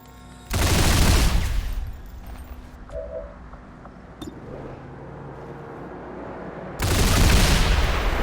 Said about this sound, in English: Aether, open fire.